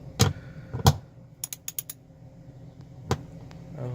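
A ratchet wrench clicks in a few quick bursts while tightening a fastener during a fuel pump replacement, with a couple of heavier clunks between the short, close runs of clicks.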